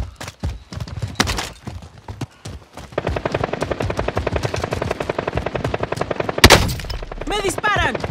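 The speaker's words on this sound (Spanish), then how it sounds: "¡Me disparan!" Rapid automatic gunfire in a Call of Duty Warzone firefight at Verdansk '84's Lumber Yard, with scattered shots giving way to a long, loud, evenly spaced burst and a sharp blast near the end.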